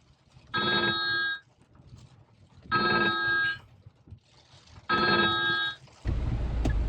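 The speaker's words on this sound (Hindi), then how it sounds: "सॉरी, फोन आ गया था एक" A phone rings with an incoming call in three evenly spaced bursts of bright electronic ringtone, separated by short quiet gaps, with a low thump right after the last ring.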